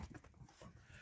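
Dog reacting to its own reflection in a mirror, making a few quiet whimpers and short huffing sounds in uneven bursts, close by and faint.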